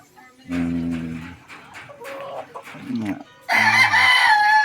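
Boston Roundhead gamefowl roosters crow in three separate bouts, each a loud nearby cock-a-doodle-doo, the last one longest and most strained, with quiet pauses between.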